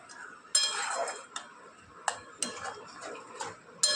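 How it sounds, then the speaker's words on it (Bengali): A spoon stirring Amul milk and sugar for payesh in a pot, giving sparse, quiet metallic clinks and scrapes at irregular intervals, with no talking. "ভালো করে মিশিয়ে নিলাম"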